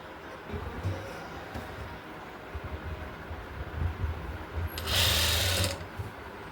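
A sewing machine stitches along the folded fabric edge of a kaftan nightdress, a close, uneven mechanical whirring with a louder, harsher burst near the end.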